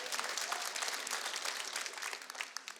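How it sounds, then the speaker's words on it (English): A studio audience claps steadily for a few seconds, a dense patter of many hands at moderate volume with no talk over it. "Clap if you agree, man."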